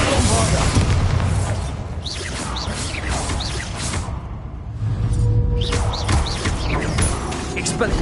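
Bombarda blasting spell in Hogwarts Legacy, deep booming explosions with whooshing magical sweeps, a loud rumbling burst early, a brief near-silent gap midway, then another heavy blast rolling on.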